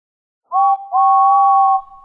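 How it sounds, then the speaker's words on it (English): A railway guard's whistle gives two shrill tones before a train departs, a short blast and then a longer sustained one, loud and close with nothing else behind them. "The guard blew his whistle, it's time to go."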